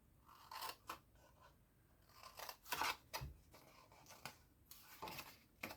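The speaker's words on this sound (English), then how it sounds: "Grab your paper snips, and with the long side facing you, just cut up these two." Paper snips cutting Easter-themed designer paper, a run of crisp close snipping cuts in uneven rhythm with soft rustling of the paper between them.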